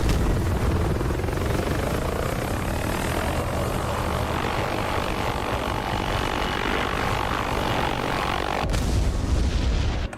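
A helicopter's rotor and engine roar steadily and loudly in a combat video game as the aircraft is shot down, a dense continuous din that cuts off sharply near the end.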